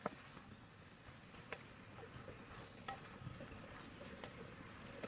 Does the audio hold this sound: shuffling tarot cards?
no